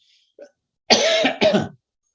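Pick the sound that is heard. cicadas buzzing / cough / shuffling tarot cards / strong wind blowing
cough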